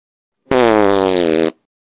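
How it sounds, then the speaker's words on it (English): One loud, buzzing fart on a bus in a video game lasts about a second, abrupt at both ends, with silence around it. "I'm gonna fart on the bus."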